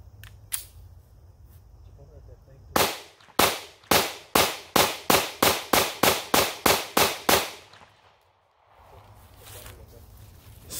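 Taurus GX4 9mm pistol fired at an outdoor shooting range, about a dozen loud, sharp shots in a fast, steady string, each with a short ringing decay, followed by quiet ambience.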